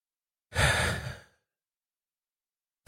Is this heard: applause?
no